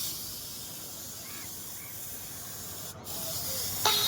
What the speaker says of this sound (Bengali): তেল মারা হচ্ছে এখন।